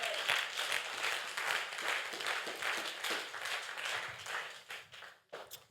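Church congregation clapping and applauding in praise, a sustained burst of many hands with rhythmic swells, fading toward the end.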